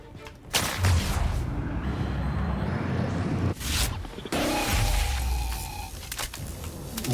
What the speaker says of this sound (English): this shot cannon's awesome